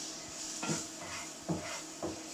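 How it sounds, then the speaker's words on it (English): Vegetables coated with herbs, salt and pepper stirred in a pan, a faint sizzle under three short scraping strokes of a utensil, with no talk. "And then we'll give that a stir."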